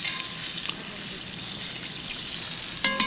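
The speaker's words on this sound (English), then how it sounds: "Best part about frying them like this, the fins taste like potato chips." Small freshly caught fish frying in hot oil for an outdoor lunch, a steady dense crackling sizzle throughout, close and fairly loud, with a brief clatter near the end.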